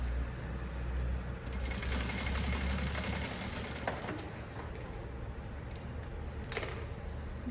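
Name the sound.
sewing machine stitching a backpack lining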